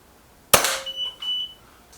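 A Hatsan AT44-10 air rifle fires a single sharp, loud crack, with a faint ringing whine and a short electronic beep from the chronograph just after.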